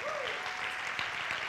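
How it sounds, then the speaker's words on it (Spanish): Church congregation gives a short burst of strong applause during an evening service testimony, dense clapping throughout with a brief voice rising at the start. "Dale el aplauso fuerte a Jesús"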